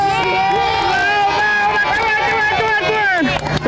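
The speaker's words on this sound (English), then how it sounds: "Let's hear a great big cheer and applause and yelling and screaming for the parade" A street parade crowd yells and cheers together, many overlapping raised voices forming a loud, continuous wall of whoops and shouts that wavers in pitch and fades slightly at the end.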